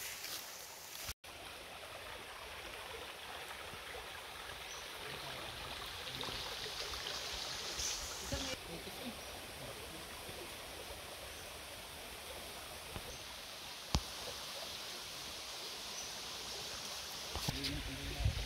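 Clear stream water in Sitio Latag, Barangay Halang, Lipa City, Batangas flows close by as a steady, broadband rush that stays even throughout, with a couple of sharp clicks along the way.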